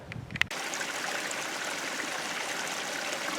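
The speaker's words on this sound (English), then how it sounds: "Kind of a little creek here." A small mountain creek along a hiking trail near Talapus and Ollalie Lakes, a close, steady babbling trickle that starts abruptly after a brief rustle and continues evenly with no talking.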